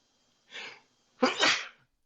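A single close sneeze: a short inhaled catch, a brief pause, then a loud burst of breath, with quiet before and after.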